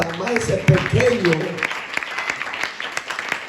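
A church congregation claps hands together as an offering of praise, a dense burst of applause with voices mixed in at first, then thinning into scattered, uneven claps.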